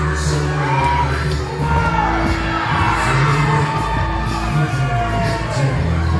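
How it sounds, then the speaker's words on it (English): A wrestling crowd cheers, whoops and shouts loudly and continuously, a dense roar of voices with scattered clapping and yells, close and energetic throughout. "unshackling Sid Manelli so he can take the uh, full applause"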